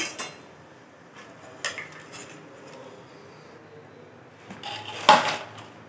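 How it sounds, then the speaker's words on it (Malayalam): A metal ladle clinks and scrapes against a vessel while deep-fried sev for South Indian mixture is scooped out of the oil, giving several close, sharp metallic knocks scattered across the moment. "ഇനി നമുക്കതിനെ കോരിയെടുത്തൊരു പാത്രത്തിലേക്ക് ആക്കാം."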